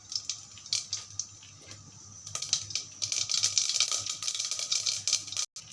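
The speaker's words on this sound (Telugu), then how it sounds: "ఇంక ఇప్పుడైతే ఆవాలు వేసుకునేద్దాం" Mustard seeds go into plenty of hot oil in a pan, a close crackling sputter of rapid small pops that grows denser and louder partway through before cutting off.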